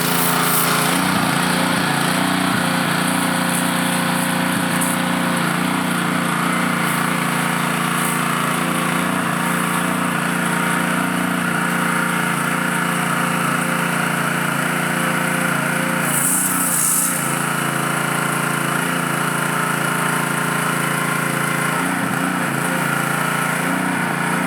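A small gas engine on a pressure washer runs loud and steady close by, a continuous droning roar that holds throughout with no voices over it.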